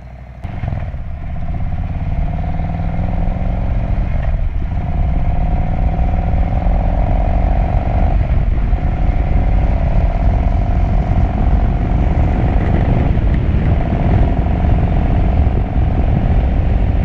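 Harley-Davidson 2020 Road Glide with a Stage 1 upgrade idling loud and close, a deep steady rumble running throughout with small surges and light mechanical clatter.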